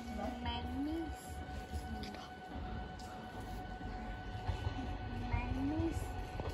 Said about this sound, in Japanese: まもなく電車が到着します。